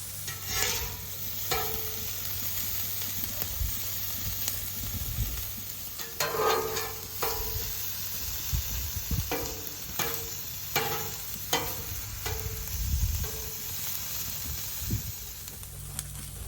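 Vegetables sizzle on a Blackstone griddle, stirred with a spatula that gives repeated scraping clicks over a constant frying hiss, with no talking.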